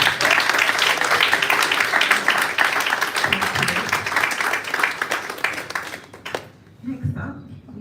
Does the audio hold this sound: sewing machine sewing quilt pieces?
no